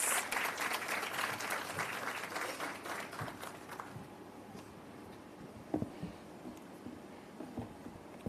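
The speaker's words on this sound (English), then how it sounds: "Round of applause" Audience at a heritage competition awards ceremony applauds the Minister of Education: a burst of crowd clapping that starts fairly strong, thins out over several seconds, and gives way to scattered claps and small room noises.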